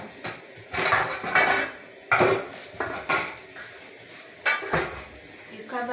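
Metal pots and pans clank and scrape in a kitchen while someone searches among them for a pot cover, making irregular loud clatters with pauses between them.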